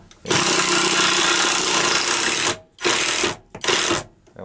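An impact wrench at work on a bathhouse renovation fires one long, loud burst, then two shorter bursts with brief silences between them.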